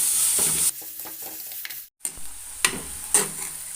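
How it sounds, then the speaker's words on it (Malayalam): Chopped onions and green chillies sautéing in a pan for a bitter gourd fish curry, a loud close sizzle broken by a brief drop-out, then stirring scrapes and a couple of clinks; no speech. "ഒരു രണ്ട് പച്ചമുളകും അരിഞ്ഞതിട്ട് കൊടുക്കുന്നുണ്ട് ഇതെല്ലാം കൂടി ഒന്ന് വഴറ്റിയെടുക്കാം"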